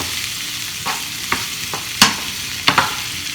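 Ingredients for rasta pasta sauté over lowered heat: a soft, steady sizzle with a few sharp clicks and taps of a utensil against the pan.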